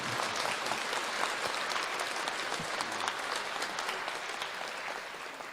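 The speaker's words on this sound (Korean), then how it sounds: "박수 좀 부탁드립니다" Steady applause from a church congregation at a Mass after a choir singer is introduced, a dense, even clatter of many hands filling the room and holding throughout without talk.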